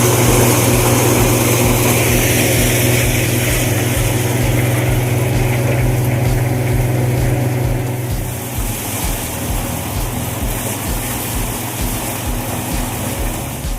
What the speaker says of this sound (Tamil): எல்லாத்தையும் இந்த மிஷினில் அள்ளி கொட்டினா போதும், சோளம் தனியாக சக்கை தனியாக வந்துடும்